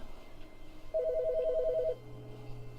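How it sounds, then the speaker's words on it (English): A telephone rings inside The Stanley Parable: Ultra Deluxe, giving one steady electronic trill about a second long that cuts off, with a low hum continuing beneath it. "Phone call?"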